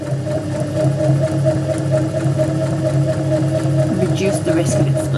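A sewing machine stitches a seam at stitch length 2 while sewing a tailor's ham and seam roll, giving a steady, close, fairly loud mechanical whirr that runs unbroken throughout.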